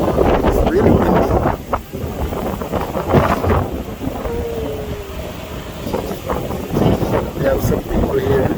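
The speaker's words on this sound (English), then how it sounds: "It's really windy." Strong wind buffeting on a rainforest lift ride above Ocho Rios, Jamaica, loud gusty rumble throughout with creaking ride noises and voices briefly heard.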